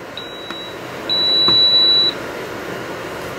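A Hitec X4 Micro multi charger gives a short high beep, then a longer held tone of about one second as its start-stop button is pressed and held, clear and close over faint room hum.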